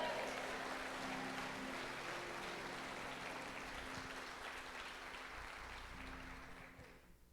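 Church congregation applauding during a Portuguese-language worship service, a steady wash of many hands clapping that holds fairly level, with a low hum underneath, then fades near the end.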